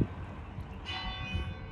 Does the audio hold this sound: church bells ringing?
yes